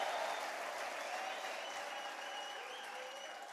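Church congregation clapping in a steady, fairly distant wash of applause, with possible ululation and cheering blended in at a moderate level.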